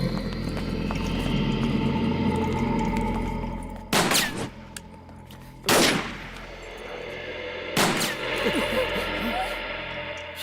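Three sharp gunshots ring out in a movie scene, spaced a couple of seconds apart, cutting through a busy background of hoofbeats and ambient noise.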